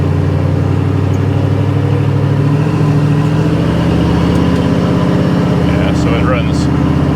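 A carbureted hot rod engine idles steadily and runs rich, a low, continuous rumble with a slightly uneven lope held close throughout, while people talk over it.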